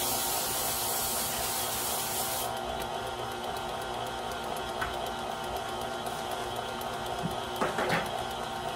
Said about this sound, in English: I have some Baker's Joy spray for the pan.